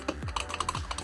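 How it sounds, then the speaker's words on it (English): Keys clack in quick, uneven strokes on a Tecknet Phoenix mechanical gaming keyboard, close and crisp with a low thump under each press. "This is a mechanical keyboard. It makes a lot of noise,"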